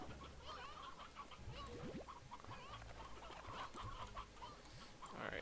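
Hens clucking in the game Slime Rancher, a busy flock of short repeated clucks and chirps close by, layered over a steady ambient hum and scattered patter throughout.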